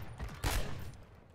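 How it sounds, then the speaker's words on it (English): Video game gunfire in a first-person shooter match, a short burst of shots peaking mid-clip over a dense, rumbling battle background. "They're already shooting at me."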